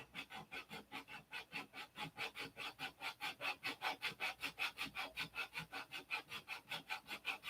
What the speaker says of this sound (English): we're going to sand until it's leveled